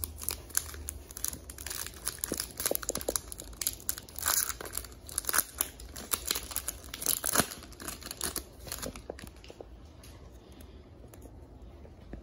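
A 2020 Series 2 baseball trading card pack wrapper is torn and crinkled open by hand in a quiet room, with close, sharp foil crackles and rips in bursts that taper off toward the end.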